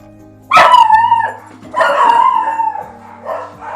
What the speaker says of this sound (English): The deafening screech of my dumb dog